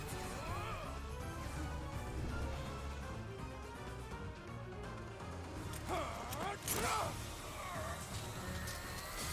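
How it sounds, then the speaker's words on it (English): A shattering effect from the video game Fire Emblem Three Houses, a bright crash of breaking sound rising over steady game music and effects, with a cluster of sharp bursts near the end. "Oh! The shatter effect!"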